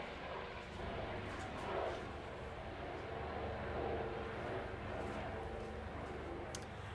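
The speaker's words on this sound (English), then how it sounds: "there's an airplane going over by" A fixed-wing airplane passes overhead, heard as a faint, steady broadband roar that fills the whole stretch with slight swells in loudness. No other distinct sounds rise above it.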